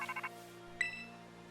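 A phone ringtone plays in the Pokémon Scarlet & Violet video game, a quick series of short electronic tone pulses followed by a brighter chime over a steady quiet musical drone.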